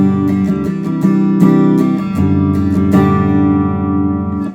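A guitar strums a I-IV-V chord progression in G using open voicings, ringing chords with repeated strums in a steady rhythm, loud and close with no talking.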